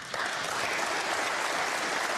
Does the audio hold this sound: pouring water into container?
no